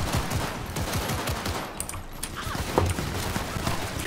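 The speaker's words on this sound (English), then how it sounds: "Why are they shooting me?" Rapid gunfire bursts crackle through a busy video game battle scene, dense and continuous with sharp cracks layered over a rumbling background, with muffled voices and hoofbeat-like clatter mixed in.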